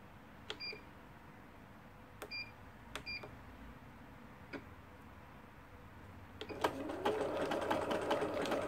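A Pfaff Passport 2.0 sewing machine runs in a test after repair, with a few sharp ticks and beeps before it starts stitching steadily and loudly near the end.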